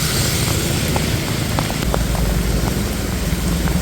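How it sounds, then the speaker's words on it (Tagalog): Heavy rain pouring beside a roadside, a dense, constant roar of downpour with a low rumbling undertone throughout, loud and unbroken. "Malakas na po ang ulan."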